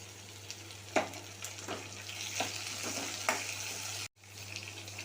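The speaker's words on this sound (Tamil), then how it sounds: "வெங்காயம் நல்லா வதங்கட்டும்" Onions and tomatoes sautéing in a pan: a soft, steady frying sizzle with a few spatula scrapes and knocks, then a brief cut of silence near the end.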